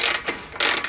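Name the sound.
ratchet tightening motorcycle swingarm pivot bolt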